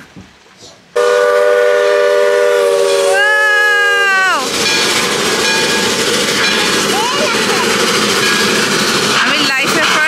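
A coal-fired steam train at Roaring Camp sounds a long, loud, chord-like whistle that bends in pitch before cutting off into a sustained, powerful hiss of steam, with voices in the background.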